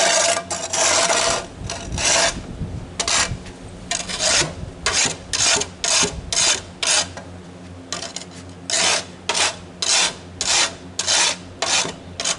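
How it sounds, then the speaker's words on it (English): Scraper dragged repeatedly across the ground during outdoor cleanup, a harsh rasping scrape in steady bursts with short pauses, close and loud. "now I got to use a scraper to clean up"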